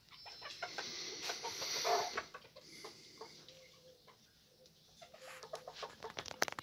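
A small group of Serama bantams, two hens, mother and daughter, and a young rooster, cluck softly in scattered short calls, faint and close, with a brief louder stretch partway through.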